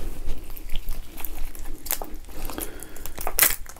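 Raw live octopus, small ones dipped in sesame oil, being bitten and chewed close up, giving wet crunchy bites and smacking bursts with brief crinkly clicks, no talking.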